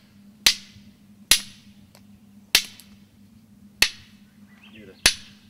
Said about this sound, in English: You hear the flakes just kind of zinging off.